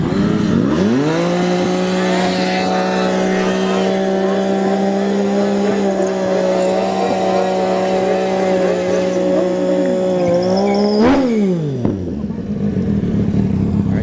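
Drag racing motorcycles, a Suzuki Gixxer 1000 and a nitrous Yamaha, hold a loud, steady high-revving drone at the line for about ten seconds before one sharp launch, the engine note dropping as the bikes pull away.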